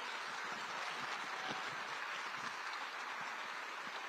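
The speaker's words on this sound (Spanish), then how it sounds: "un aplauso para todos ustedes." Steady, dense applause from attendees at a business opportunity and training meeting fills the whole stretch without a break, loud and even, with no voices standing out.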